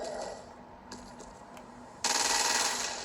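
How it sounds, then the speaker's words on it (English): Automatic assault rifle fire in the video game Crackdown 2, a dense sustained burst starting abruptly partway through and continuing loud to the end, preceded by quieter game ambience with a few faint clicks. "The ordnance you now hold is a standard-issue agency assault rifle."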